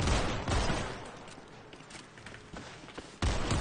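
Bursts of gunfire in a GTA roleplay game, sharp loud shots clustered at the start and again at the end with quieter rattling between, no talk over them.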